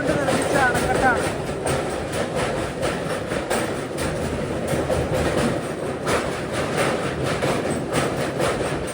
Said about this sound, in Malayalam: പത്ത് 18 ട്രെയിൻ ഇപ്പോൾ സാമ്പൽപൂർ ജംഗ്ഷനിലേക്ക് ഇതാ എത്തുകയാണ്